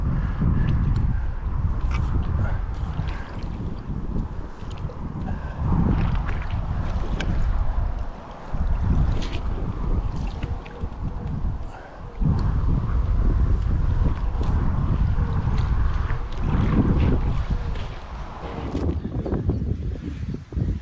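Strong wind gusting by the River Severn at Shrewsbury on a July day's fishing, a loud, constant low roar buffeting the microphone, with brief lulls around the eighth and twelfth seconds and no talking.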